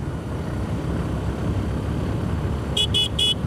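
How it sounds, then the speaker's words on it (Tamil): Horn of a Suzuki Gixxer SF motorcycle gives three short, evenly spaced honks near the end, over a steady engine and road rumble. "ஆரன் இன்னும் கொஞ்சம் லவுடாக கொடுத்துருக்கலான்னு தோணுது."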